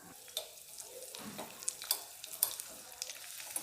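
Raisins frying in hot ghee for payasam, after cashews, give a faint, steady sizzle with a few small pops and crackles, stirred in a pan, with no talking.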